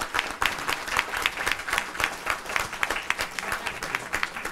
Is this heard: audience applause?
yes